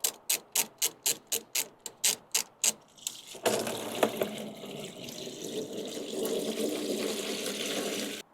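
Coolant draining from the radiator of an Alfa Romeo GTV under restoration, starting with about a dozen evenly spaced ratcheting clicks, then changing to a continuous splashing trickle of liquid close by.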